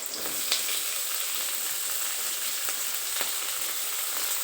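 Chopped cabbage tipped into a hot pan for fenugreek-leaf rice, giving a steady loud sizzle and hiss of frying with a few sharp crackles and stirring scrapes throughout.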